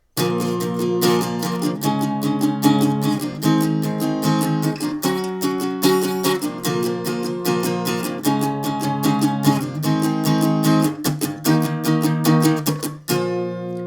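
An acoustic guitar plays the intro to a song, steady rhythmic strums with muted chugs in repeating phrases, close and loud, ending on an abrupt stop.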